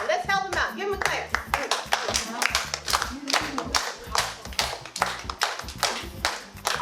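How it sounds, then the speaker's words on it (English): An audience claps in a classroom or lecture setting, a steady run of sharp hand claps carrying on throughout, loud and close, with voices talking over the clapping. "Give him a clap"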